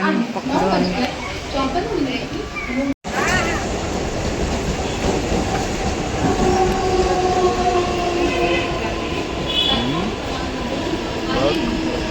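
A train rumbles along steadily with rhythmic rattling and clatter, people talking over the noise throughout, broken by a brief moment of silence.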